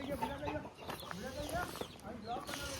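Hens raised from chicks on a poultry farm cluck in a dense, overlapping chorus close by, with steady chatter of many birds and a person talking over it.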